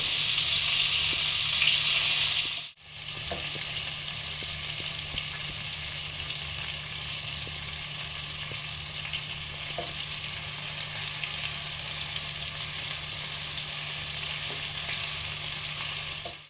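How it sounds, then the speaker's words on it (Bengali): Potatoes and pointed gourd fry in oil with a dense, even sizzle that goes on and on, after a brief hard cut near the start, with faint stirring clicks and no talking. "এইভাবে ভাজতে হবে লাল লাল করে দুটোকে।"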